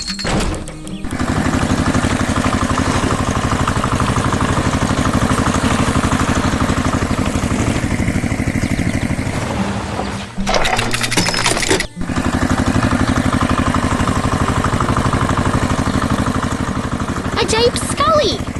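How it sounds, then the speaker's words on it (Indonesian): Tractor engine working hard while plowing soil, a loud continuous drone with a brief dip and clatter midway before resuming steadily. "Traktor itu sedang bekerja keras membajak tanah agar siap untuk ditanami bibit baru."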